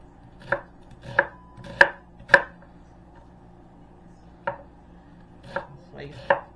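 A knife slices through corned beef on a cutting board, giving about eight crisp, close strokes in two uneven bursts with a quiet pause between them.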